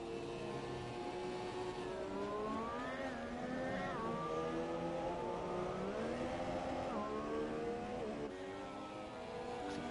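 A Formula 1 car engine on a lap of the Malaysia circuit in the F1 2017 racing game, its pitch climbing and dropping through gear changes, steady and fairly faint.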